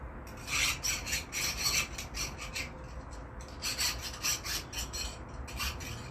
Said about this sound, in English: using a chainsaw sharpener